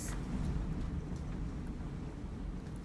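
Rain pours steadily during Hurricane Dorian as a dense, continuous hiss with a low rumble, quite faint and with no one speaking.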